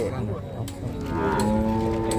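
Cattle at a livestock market, with a single drawn-out moo sounding close and clear against a background murmur of the market.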